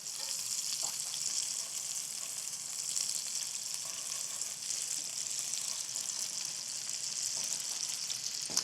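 Raw pork mini burger patties fry in a non-stick pan with a continuous, even sizzle that holds steady throughout, heard close and alone without any talking.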